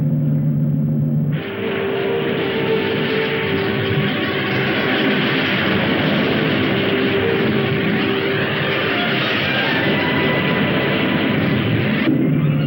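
A rocket's engines roar during a launch sequence in a 1960 science-fiction film, a loud, sustained broadband rumble that swells in after a brief pause and holds steadily to the end.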